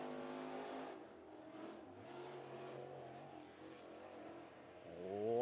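A crate late model race car circles the speedway on a qualifying lap, its engine droning steadily with rising and falling pitch as it revs through the turns, loud and continuous throughout.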